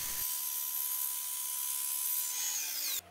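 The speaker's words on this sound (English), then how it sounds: "you cut it again on this bandsaw for the second process" A bandsaw makes a steady, sustained whine with a constant hum while cutting wood for a cutting board, then stops abruptly near the end.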